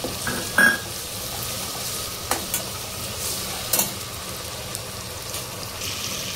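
Onion and tomato fry in a pan for a Mangalorean chicken sukka, a soft, low sizzle broken by a few sharp clinks and scrapes of stirring, fairly faint and close.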